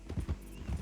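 Horse carriage hooves clop a few times in Red Dead Redemption 2, a short faint run of soft hoofbeats.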